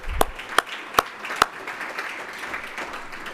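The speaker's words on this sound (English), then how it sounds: "Another round of applause," A few sharp, separate claps at an annual meeting, four distinct loud hits in the first second and a half, then only faint scattered clapping and room noise.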